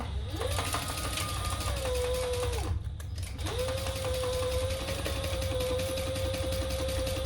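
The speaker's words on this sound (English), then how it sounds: "All right, we're gonna sew down the sides." Sewing machine stitching down the sides of a handbag, a steady whirring motor hum that runs, stops briefly for about a second, then resumes at a constant pitch close by.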